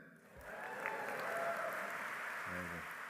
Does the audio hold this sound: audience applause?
yes